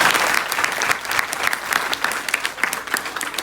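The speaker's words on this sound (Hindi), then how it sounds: "तो जोरदार तालियां बजाओ।" Audience applause at a live comedy show, a dense, steady patter of many hands clapping close and loud, with faint crowd murmur mixed in.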